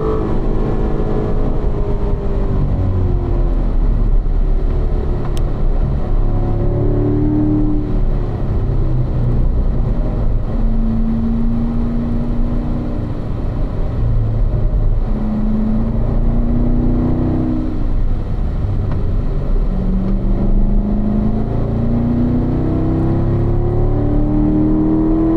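Steady car engine droning close and loud under throttle, with pitch rising and falling in sweeps as the gas pedal is pressed and eased on a driving session, no talk.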